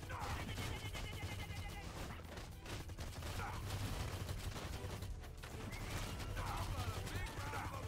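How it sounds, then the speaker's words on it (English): Gunfire aimed at the player in the video game Young Justice: Legacy, with rapid volleys and crashes layered over a dense, busy game soundtrack; a voice talks over the noise. "Stop shooting me."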